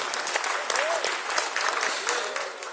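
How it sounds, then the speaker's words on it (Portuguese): A church congregation claps in praise of Jesus during a Portuguese-language service, a continuous crowd of hands with brief voiced cries rising over the clapping throughout. "louve ao Senhor Jesus com palmas"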